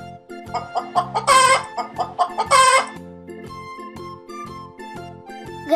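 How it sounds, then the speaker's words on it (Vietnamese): A hen clucks in short repeated bursts over a backing melody, two louder clucking phrases standing out early before the music carries on alone. "Gà mái."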